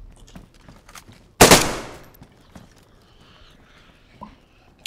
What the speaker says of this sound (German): Wie viele Bison-Schüsse hat er gefressen?